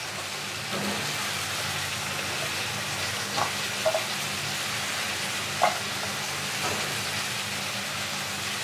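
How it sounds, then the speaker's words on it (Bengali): Drumstick vegetable pieces stirred in hot oil with salt and turmeric, giving a steady close sizzle and frying hiss with a few soft clinks of a spatula against the pan. "এবার ডাঁটাটা আমি দিয়ে বেশ কিছুক্ষণ নাড়ব। তেলের মধ্যে নাড়লে তবে ডাঁটার মধ্যেও নুন হলুদের একটা সব কিছু ঢুকে যাবে সুন্দর।"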